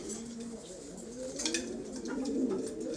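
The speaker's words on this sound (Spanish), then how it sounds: "Ahí lo tenéis, este palomo." A domestic pigeon, a pouter-type buchón cock, coos steadily in a loft, with low rolling calls repeating under faint background rustle and occasional bird chirps.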